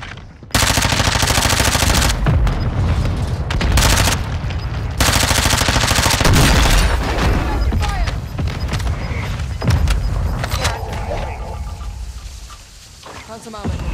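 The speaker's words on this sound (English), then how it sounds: "Mortar strike on the way." Heavy bursts of rapid automatic gunfire and booming mortar strike explosions in a military shooter video game, loud and nearly continuous, with radio-style voices talking over the battle.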